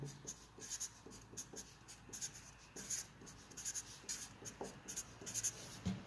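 Pen writing on a page during a physics lesson, with soft rhythmic scratching strokes and brief pauses, close and quiet, with no talk.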